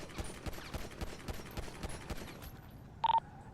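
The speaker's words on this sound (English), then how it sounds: "Dispatch, shots fired." Rapid bursts of gunfire ring out in a GTA V police patrol with the LSPDFR mod, a dense crackling volley running steadily for about two and a half seconds, then fading out before a short electronic beep.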